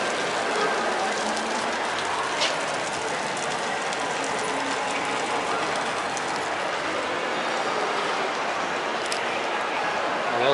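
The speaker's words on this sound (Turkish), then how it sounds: "nasıl yağmur yağıyor?" Heavy rain pouring outside a train station in Singapore, a dense, steady hiss of drops hitting surfaces, with someone speaking faintly over it.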